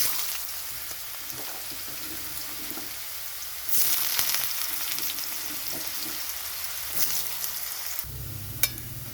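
Potatoes fry in hot spiced oil for vegetarian sago khichdi, a close, steady sizzle that swells louder partway through, with occasional spatters and stirring knocks.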